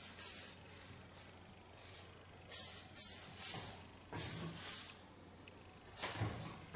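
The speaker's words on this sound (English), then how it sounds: "And a hairspray on the rest of her hair." Hairspray sprayed onto hair in repeated short hissing bursts, about ten of them in uneven rhythm, close and fairly soft in a quiet room.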